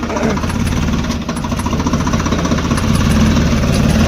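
A tractor engine runs steadily up close while working a rotavator on farmland, a loud throbbing low rumble that never lets up.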